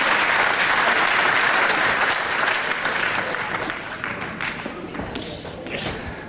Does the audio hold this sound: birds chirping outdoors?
no